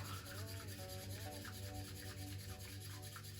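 A bamboo whisk whisks matcha tea in a bowl, giving a steady, continuous brushing and scraping close by, with no talk.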